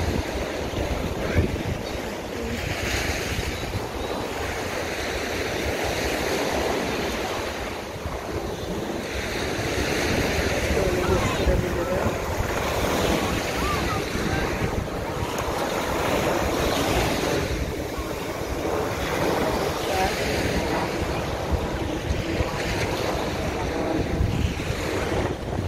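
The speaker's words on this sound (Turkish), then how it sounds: "Çok dalga var, inanılmaz bir dalga var." Ocean surf in Miami keeps rolling and crashing with strong wind buffeting the microphone, forming a continuous broad roar that swells and eases without any talk.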